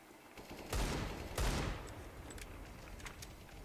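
Gunfire in a CS:GO deathmatch round, two sharp shots close together, then a few fainter distant cracks over low background game ambience.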